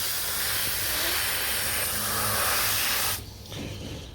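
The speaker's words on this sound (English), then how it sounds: "So now I'm going to hose my sieve out, make sure all the gold dust is off it." A hose sprays water to rinse gold dust out of a sieve, a close, steady rushing hiss that runs for about three seconds and then cuts off sharply, leaving faint background noise.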